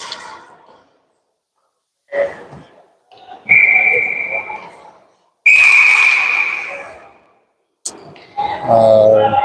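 A referee's whistle stops play at a Florida hockey game, sharp piercing blasts sounding in bursts between quiet gaps, with arena noise and faint voices around them.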